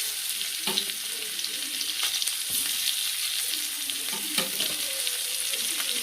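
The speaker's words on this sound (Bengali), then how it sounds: "দেখো, পেঁয়াজটা হালকা ভাজা ভাজা হয়ে গেছে।" Chopped onion frying in butter and white oil in a pan, a steady close hiss of sizzling with occasional stirring clatters running throughout.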